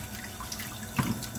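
Water runs from a tap while dishes are washed, a steady close splashing hiss with a brief louder gush near the end.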